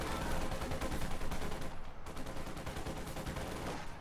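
Assault machine gun fire in the Company of Heroes 2 strategy game, dense rapid bursts of automatic gunfire overlapping with distant battle shots, steady and moderately loud throughout.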